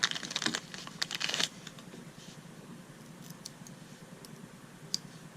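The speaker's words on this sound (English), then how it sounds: "If I can work a Ziploc bag" A plastic Ziploc bag being worked open during a carabiner keychain unboxing, with a brief burst of crinkly clicks and rustles in the first second and a half, then only a few faint ticks.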